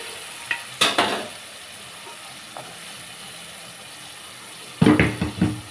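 Boiled chickpeas being sautéed in a pan with a little water added for sundal masala: brief bursts of sizzling and stirring, a cluster early on and another near the end, with quiet stretches between.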